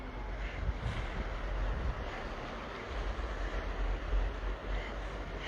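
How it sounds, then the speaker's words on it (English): Strong wind buffeting the microphone at Shark's Cove on Oahu's North Shore, Hawaii, a heavy low roar with gusty surges that rises and falls continuously, no voices heard. "It's really super windy where I am"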